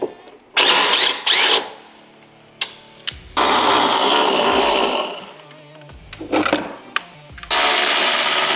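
A power tool zips out the four bolts on a 2014-2023 Harley-Davidson Road Glide during a speaker install. It runs in several loud, close bursts separated by short pauses, with no talk.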